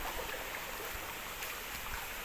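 Water from Kuttupatti waterfall runs down a stream in a steady broadband rush, close and continuous with no voices.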